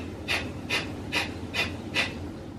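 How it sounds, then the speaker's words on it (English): Five sharp, evenly spaced nasal exhalations of rapid breath-of-fire yoga breathing, close and clear, each a quick forceful puff with brief pauses between, no talking. "I will do the rapid breath of the breath of fire 3 times"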